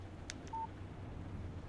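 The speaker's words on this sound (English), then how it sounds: "Text message from Barry." A short electronic phone chime for an incoming text message in the video game Alan Wake Remastered, a brief clean tone preceded by a couple of faint clicks over a low steady background hum.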